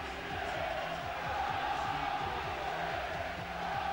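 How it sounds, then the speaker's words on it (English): A rugby league crowd roars at Knowsley Road as St Helens meet Wigan in 2001, a constant, loud stadium din with chanting voices rising and falling through it. "A fanatical crowd greets them"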